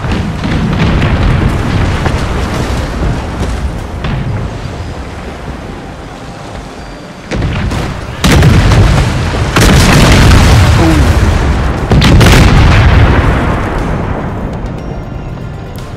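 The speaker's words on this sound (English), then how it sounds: "Come on, load those cannons." Heavy cannon booms from the game The Pirates! with the Empire 2 mod burst out amid a constant roar of wind and crashing waves, loud and close.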